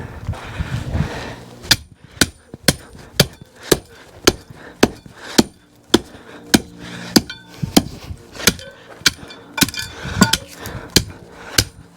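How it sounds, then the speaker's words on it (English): Ground is pounded by hand to compact a shed base, with regular sharp thuds about twice a second repeating steadily and close throughout. "Time to get pounding."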